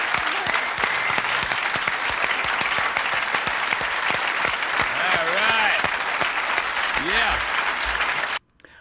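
A live crowd at a concert claps and cheers loudly and continuously, with whistles and shouts rising through the roar before it cuts off abruptly near the end.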